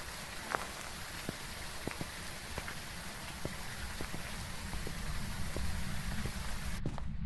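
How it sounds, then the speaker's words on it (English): Rain falls steadily in the video game Phasmophobia, a constant close hiss with scattered individual drop ticks. "The rain masks the sounds of the ghosts."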